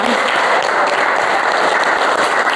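A classroom of students claps for themselves together, a loud, dense, steady wash of applause that holds evenly throughout with no talk over it.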